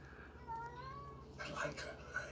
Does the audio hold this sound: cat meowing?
yes